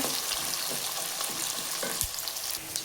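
Chopped onions frying in a pan for a vegetable bath dish, a steady broadband sizzle with occasional stirring knocks and scrapes, close and continuous with no talking.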